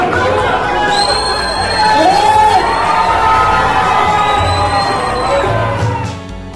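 A packed wedding crowd cheers, shouts and chants loudly all at once over a late football winning goal, with whoops and voices rising and swelling over a continuous roar.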